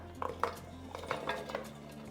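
Light clinks and rattles as chopped sugarcane pieces drop into a metal mixer jar, a few sharp taps over a low hum.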